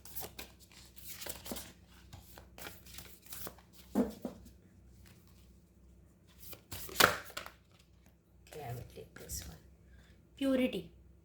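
Tarot cards shuffled and drawn in short papery bursts of riffling and slapping, with quiet gaps between them and a voice talking softly over parts of the handling.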